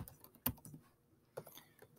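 Typing a command on a Chromebook keyboard, a handful of close key taps in two short bursts with a pause between, fairly faint and without speech.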